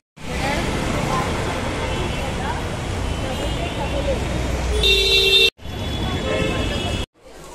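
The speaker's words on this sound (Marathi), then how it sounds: "रक्षाबंधनमुळे किती ट्रॅफिक जाम झालं आहे" Dense roadway traffic jam on a busy street during the Raksha Bandhan festival, a steady roar of engines with a brief horn toot near the end, under a background murmur of crowd voices.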